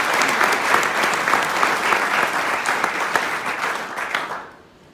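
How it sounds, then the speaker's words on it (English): A hall audience breaks into dense, sustained applause, many hands clapping together at close range, holding steady for several seconds before tapering off quickly at the end. "I would like you to applaud them for their own."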